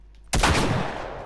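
Gunshot from a powerful gun in The Last of Us Remastered: a single loud, close blast with a sharp onset after near silence, followed by a long rumbling decay.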